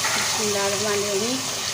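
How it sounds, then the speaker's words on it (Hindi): Blended tomatoes fry in a pan for a cauliflower karahi, giving a steady, fairly loud sizzle that runs throughout, with a faint voice-like tone briefly over it. "इसकी अब अच्छी तरीके से इसकी भुनाई करनी है।"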